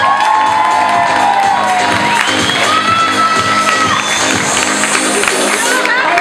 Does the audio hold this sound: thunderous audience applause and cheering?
yes